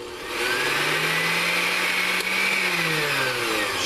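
An electric motor in a vintage US-made thrift store kitchen appliance spins up and whirs steadily, close and loud, with a slight pitch sag midway and no talk.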